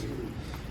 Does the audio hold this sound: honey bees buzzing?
no